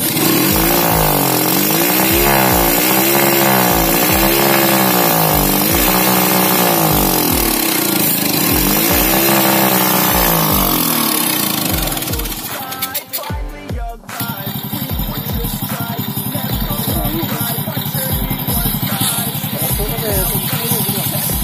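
A hard-starting motorcycle with a freshly cleaned carburetor revs loudly and repeatedly, its engine note rising and falling, then dips briefly before settling into a steady, rough running rumble.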